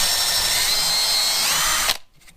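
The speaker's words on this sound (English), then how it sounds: "Okay, we got all those drilled." A power drill whirs steadily at high speed, loud and close, then cuts off abruptly near the end.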